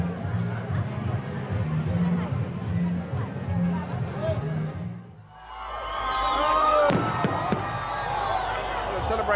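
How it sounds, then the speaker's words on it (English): Fireworks at a big celebration party in Transnistria crackle and bang over a noisy crowd, following a stretch of chatter and voices from the gathering. "they're ending with a huge party, fireworks, and Russian pop stars who've been flown in especially for a great big party for everyone"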